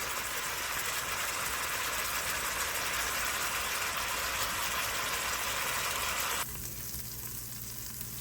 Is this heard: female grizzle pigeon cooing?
no